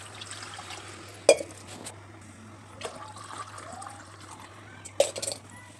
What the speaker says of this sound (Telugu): ఇప్పుడు ఇందులో వాటర్ అండి.